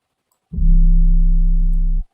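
A single deep 808 bass note in FL Studio that swells in gradually with a slow-attack envelope rather than striking, holds steady for about a second and a half, then cuts off.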